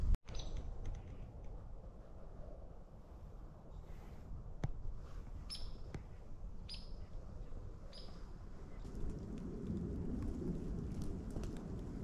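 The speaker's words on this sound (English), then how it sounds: "this rain just started hitting" Steady rain falls at a Pennsylvania deer camp, a broad continuous patter with a few sharp drips, swelling heavier toward the end; no distinct thunder clap stands out.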